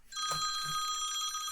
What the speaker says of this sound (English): my phone's going off here at the worst possible time.